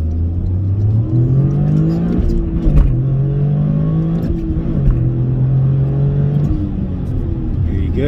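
A Toyota GR Corolla with a turbo engine pulls hard out of first gear, its engine note climbing steadily and loudly up through the revs and then shifting, heard up close as a continuous strong drone.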